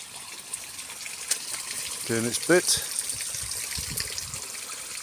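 Water from a submersible pump spills steadily down a new quartz garden waterfall, a continuous soft gushing wash, while someone speaks briefly over it.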